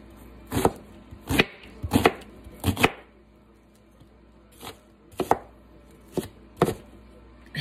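A knife chops a Vidalia onion on a cutting board in two quick bursts of three or four sharp, close strikes each, separated by a short pause, with no one speaking.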